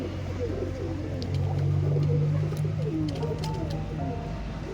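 A flock of pigeons gathered at a water dish coos in soft, overlapping throaty murmurs over a steady low drone, with a few faint high clicks and a voice murmuring underneath.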